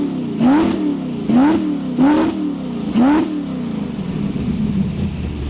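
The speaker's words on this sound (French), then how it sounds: "est-ce qu'elle est encore chaude pour se permettre de faire des petits vroom vroom, des revs?" A 1965 Ford Mustang fastback engine gives four sharp, close blips of revving at even intervals, each rising and falling away, then settles into a rough idle, with no talk.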